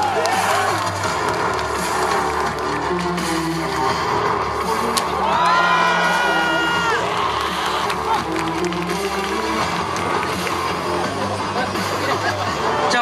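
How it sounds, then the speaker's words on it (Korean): A large audience at a commemorative rally applauds and cheers continuously, a dense wash of clapping and crowd noise with scattered whoops, while an amplified voice and brief music tones sound over it. "박수 소리가 너무 더 작아지고 있습니다."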